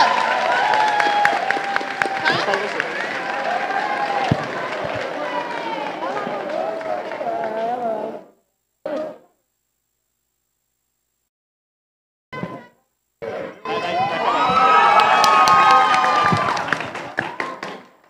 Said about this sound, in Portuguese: Salva de palmas para essas crianças também